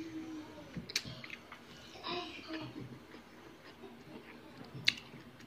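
Close, quiet crunchy chewing of dried fish with scattered sharp bites and soft mouth sounds, interrupted now and then by faint clicks.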